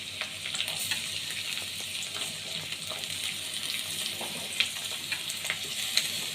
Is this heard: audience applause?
no